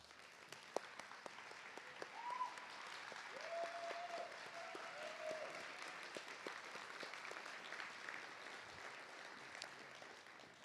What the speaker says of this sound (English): let's give them a well-deserved standing ovation